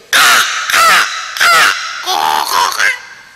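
A man mimics a crow cawing, giving four loud, harsh, close caws in steady succession, the last one rougher and stretched, with nothing else audible around them.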